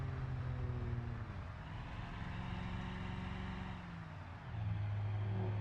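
A car fitted with an RB26 engine mod in BeamNG.drive drones steadily with a sustained engine hum that dips slightly then swells again near the end, fairly faint and with no talking.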